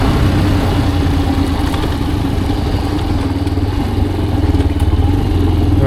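A motorcycle engine runs steadily nearby with a loud, constant low rumble and a slight mechanical clatter, holding an even idle throughout.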